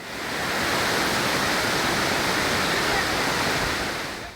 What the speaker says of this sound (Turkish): sağanak yağış bir anda bastırdı